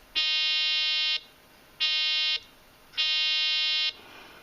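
A steady electronic tone sounds in three separate bursts, each about a second long, with short silent gaps between, loud against faint background hiss.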